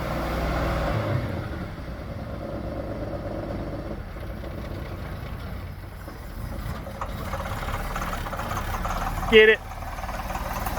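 A Dodge D150 pickup truck engine idles roughly and revs in a yard, a steady low rumble running under nearby casual talk throughout.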